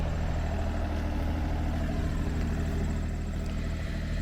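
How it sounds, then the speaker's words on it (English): A tractor engine idles steadily after starting, a continuous low rumble with a constant drone, fairly close and unbroken, with no talk. "just started up his tractor"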